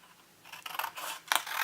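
Scissors snip through paper in a few quick, close cuts with brief bright crisp bursts between short pauses, no voices.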